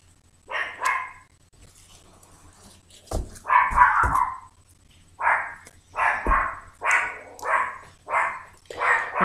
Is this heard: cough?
no